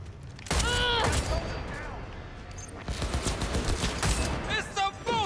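Gunfire in Cyberpunk 2077, dense bursts of shots filling most of the clip with a short lull in the middle, while voices with pitched tones run over the top.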